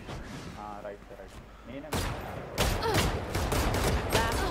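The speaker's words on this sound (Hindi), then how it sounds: "भाई क्या है ये कैसी गन चल रही है" In the Valorant Spike Rush game mode, gunfire bursts out after some faint talking: one sharp burst, then a louder, sustained volley of shots that lasts to the end.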